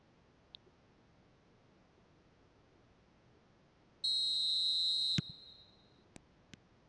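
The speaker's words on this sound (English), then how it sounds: "There's the whistle and here we go." A referee's whistle at kick-off in the eFootball video game, one sharp bright blast of about a second over quiet game ambience, followed by a few faint clicks.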